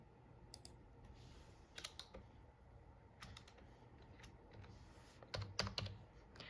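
Computer keyboard being typed on to enter a password, a quick run of light key clicks in short irregular bursts, soft and close in an otherwise quiet room.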